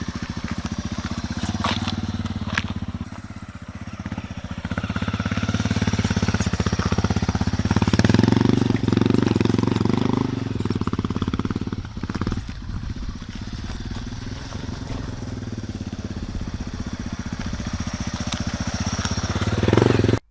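A Yamaha AG200 farm motorcycle engine labours in low gear while riding over rough ground, a steady close rattling drone that swells and eases with throttle throughout, with no talking.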